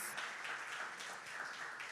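A church congregation claps in praise during a service, a dense, even patter of many hands that is moderately faint and continuous throughout.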